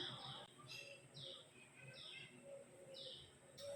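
Birds chirp in short, repeated high calls at a steady pace, fairly faint against a soft background hum.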